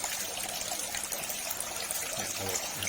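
Water trickling down the tiers of a plastic-tank aquaponics system, a continuous close splashing dribble with a steady hiss throughout.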